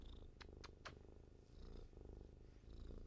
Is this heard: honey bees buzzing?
no